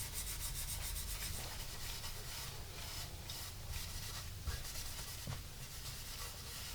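Hand rubbing back the finish on the back of a guitar body before Danish oil, a quiet, close, continuous abrasive scrubbing with repeated strokes and no talking.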